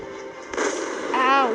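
Warship cannons fire in a naval battle video game. A short, sharp boom with a rushing blast tail sounds at mid distance, followed by a whistling shell sound, with no talking.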